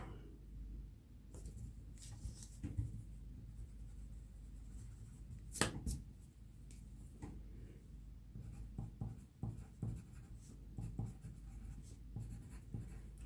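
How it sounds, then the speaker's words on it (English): A pencil scratches across a paper character sheet for a Conan tabletop RPG, with faint intermittent strokes and taps in a quiet room and no talking. "I'm putting this in pencil just in case I find something else as I go through."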